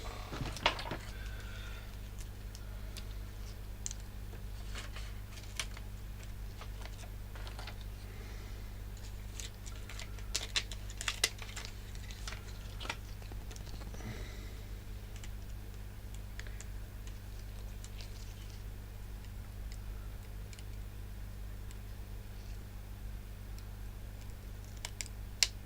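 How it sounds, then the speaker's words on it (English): Scissors cutting plastic battery packaging for an Apple iPhone 7 Plus battery, sparse small snips and crinkles scattered over a steady low electrical hum. "I'll use the scissors."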